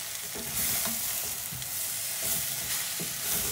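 Onions and carrots for chakalaka fry in a pan with a steady, close hiss and sizzle. Occasional soft clinks and stirring sounds come through the crackle.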